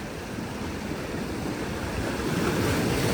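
Ocean waves roll in on a Cyprus shore as a broad, continuous wash of surf and wind noise that swells slightly toward the end, steady and fairly loud with no voices.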